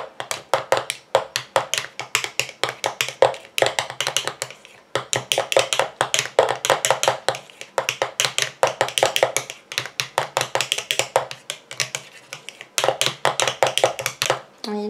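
A cosmetic cream is stirred in a small container, giving rapid, steady clicking and tapping strokes in close bursts with short pauses between them.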